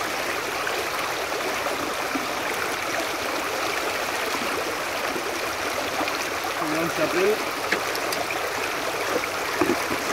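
River water streams steadily over a Keen A52 gold sluice box during rinsing, a constant close rushing wash with faint splashes near the end.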